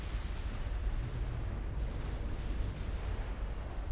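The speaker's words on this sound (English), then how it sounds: "First torpedoes are arriving." Torpedo hits on ships in the naval game Ultimate Admiral Dreadnoughts rumble as a dense, continuous low roar of explosions, steady and fairly loud throughout, with no talk.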